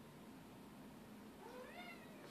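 A cat gives one faint, rising meow partway through, set against quiet indoor room noise in a small room.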